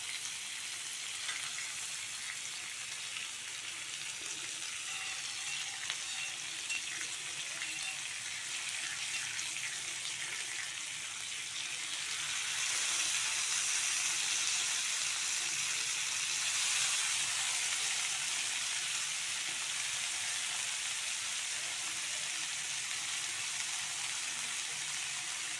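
Paneer tikka frying in butter in a pan makes a soft, continuous sizzle that swells a little louder partway through, with no voices over it.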